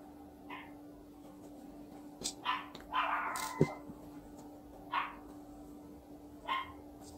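A dog barks intermittently in the distance from the street outside, short single and double barks spaced several seconds apart over a faint steady hum.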